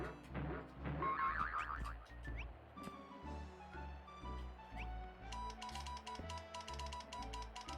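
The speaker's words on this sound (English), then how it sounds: "Who's typing in Morse code?" Rapid Morse-code typing clicks in the PlayStation game My Disney Kitchen, tapping in quick irregular bursts over bright, steady game music.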